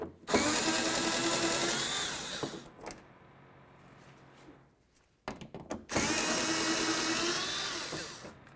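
A power tool with a 5.5mm socket spins a headlight bolt on a fourth-generation Ford F350, giving two loud, close, whirring bursts of a few seconds each with a quieter pause and clicks between.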